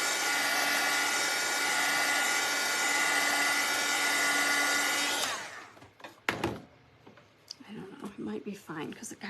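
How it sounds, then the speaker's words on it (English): A hair dryer blows steadily on painted costume pieces for about five seconds, a loud continuous whir, then cuts off, leaving handling clatter and a voice speaking. "I'm gonna hit it with a dryer just a little bit"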